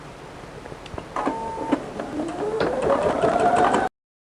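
An embroidery machine stitches a freestanding lace Christmas ornament: rapid mechanical ticking and clatter, then a steady motor whir that rises in pitch and grows louder before stopping abruptly.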